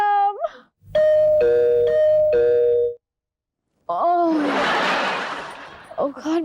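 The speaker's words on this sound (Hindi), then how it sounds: "घंटी बजाने से कोई फायदा नहीं है।" An electronic doorbell plays a repeated multi-tone chime, then pauses and sounds again as a short melodic ding-dong. A burst of hissy noise and brief voiced sounds follow near the end.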